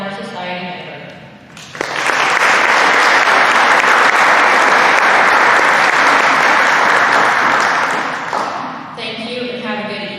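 Audience applause at a Brashear High School honor society ceremony. A speaker talks briefly, then the room erupts into loud, sustained clapping that holds for about seven seconds before fading as talking resumes.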